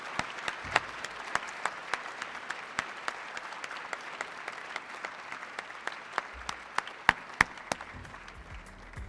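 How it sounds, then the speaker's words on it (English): Applause at an employee recognition and retirement ceremony, a sustained round of clapping from a seated crowd with individual sharp claps standing out, steady and moderately loud for several seconds. "can we have just one round of applause for all of the service and the retirements we acknowledge today?"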